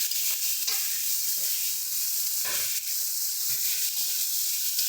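Potato, eggplant, flat beans and sun-dried lentil bori tossed with spices in a frying pan for a winter fenugreek-greens dish, with a steady bright sizzle broken by scraping stir strokes and one sharp clatter near the middle.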